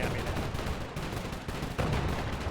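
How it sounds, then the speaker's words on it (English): Enemy gunfire in the World War II strategy game Men of War II: a dense, continuous barrage of shots with heavier artillery-like thuds, steady and loud throughout with no voices on top. "That guy's shooting at me"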